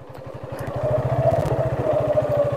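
A Suzuki Fi ABS motorcycle engine chugs with a steady, fast pulsing idle-to-rev rhythm as the rear wheel slips in mud off-road, loud and close, building slightly and holding throughout with no speech.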